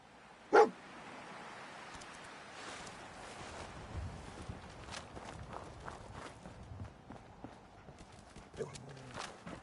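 In Fallout 4, the dog Dogmeat tracks a scent: one loud bark near the start, then soft padding footsteps and faint clopping movement, with occasional quiet sniffs and light background ambience.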